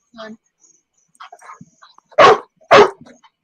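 Two loud, sharp dog barks close by, following some brief low murmurs and softer sounds.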